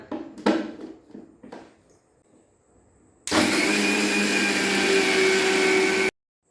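A kitchen mixer grinder whirs steadily at high speed, loud and close, while grinding soaked rice into dosa batter, then cuts off abruptly. Before it starts there are a few clattering knocks and faint room noise.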